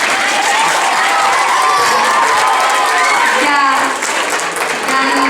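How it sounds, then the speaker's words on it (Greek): Loud applause and cheering from school students, a packed crowd clapping with children's shouts and voices mixed throughout, close and steady. "εδώ χειροκρότημα"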